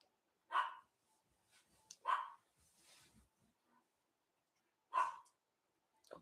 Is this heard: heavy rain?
no